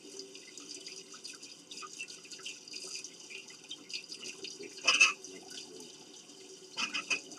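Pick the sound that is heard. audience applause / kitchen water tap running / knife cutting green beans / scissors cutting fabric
kitchen water tap running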